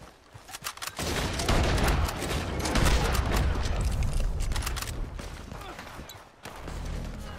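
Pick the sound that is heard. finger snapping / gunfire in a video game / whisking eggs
gunfire in a video game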